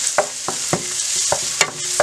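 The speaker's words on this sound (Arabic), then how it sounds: "نحطوا شويه زيت عادي قدر مغرفتين زيت، ما نكثروش، ونحطوا البصل." Onions frying in a couple of ladles of oil in a pan for Tunisian malsouka tajine, a bright constant sizzle broken by regular scraping strokes of a spoon stirring them, loud and close.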